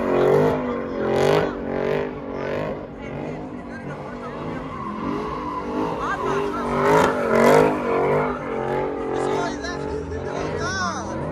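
A loud Mercedes-AMG revving at a car show, rising and falling engine roars heard under continuous nearby chatter and crowd voices.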